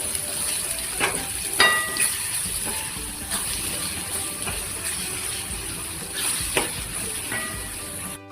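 Tomatoes sautéing in masala for a spicy brinjal curry, a steady close sizzle with occasional scraping and tapping of a spoon stirring in the pan, no talking over it.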